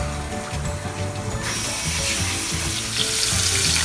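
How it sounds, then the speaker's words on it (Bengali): Golda prawns sizzle in a hot pan for a Thai-fusion prawn curry, a steady frying hiss that swells into a louder, brighter crackle partway through and keeps going. "তো এই যে আমি গলদাটাকে একটু ভেজে নিচ্ছি।"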